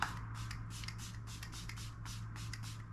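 A facial mist spray is pumped in several short, soft hissing bursts close by, each a quick breathy puff in an otherwise quiet room.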